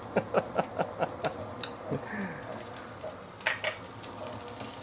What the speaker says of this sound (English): I'm putting in my very secret ingredient today, the salted fish.